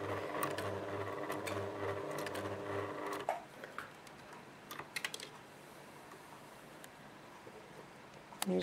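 A sewing machine runs a programmed stitch pattern on a napkin, its rapid mechanical whirring and rhythmic needle clatter loud and close for about three seconds, then stopping, followed by quieter handling clicks and taps of fabric.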